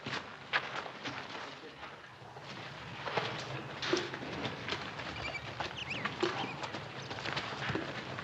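A saddled horse's hooves clip-clop at an unhurried walk on hard ground in a 1960 Western drama scene, a steady, moderately close patter of hoof strikes over faint background ambience.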